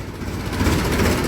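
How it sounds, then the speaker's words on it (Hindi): A tractor engine runs at a farm while a trolley is loaded with sugarcane, giving a steady, close, low rumbling drone with a slight rhythmic throb and no talk. "ट्रैक्टर स्टार्ट कर लिया है"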